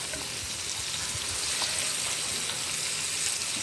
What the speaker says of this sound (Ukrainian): Наші грибочки обсмажилися, додаємо солодкий перчик